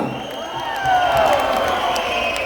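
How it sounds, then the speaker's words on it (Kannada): A crowd at a public event in Kunigal cheers and applauds, with whoops and raised voices swelling in the middle, loud and sustained throughout. "ಒಂದ್ಸರಿ ಜೋರಾಗಿ ಚಪ್ಪಾಳೆ ತಟ್ಟಿ"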